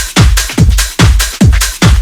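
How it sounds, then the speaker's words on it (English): Stacked speed garage percussion loops play a steady, punchy rhythm of five loud hits with bright, noisy tails, alone with no talk. "Then we've got a bit of percussion loops."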